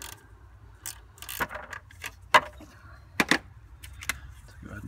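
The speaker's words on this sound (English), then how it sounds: "Take your 15 millimeter ratchet and remove these two bottom bolts" Hand ratchet wrench loosening 15 mm bottom alternator bolts on a 2004 Chevy Silverado 5.3, giving several short, sharp clicking bursts spaced irregularly, close and moderately loud over a low background hum.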